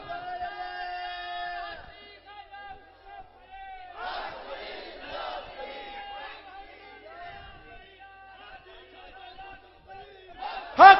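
Crowd voices rise together in loud religious chanting at a Sunni Mawlid celebration gathering, with bursts of group shouting between stretches of a single voice, ending in a sharp loud cry.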